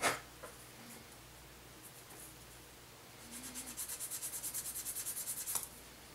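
Quiet, quick back-and-forth rubbing strokes sanding a plastic model kit part, about a dozen rhythmic passes after a few faint scrapes, close up with no talking.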